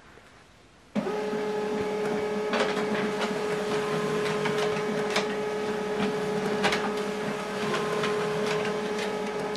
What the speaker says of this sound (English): you just go ahead and hit the scan button, and it's printing it out.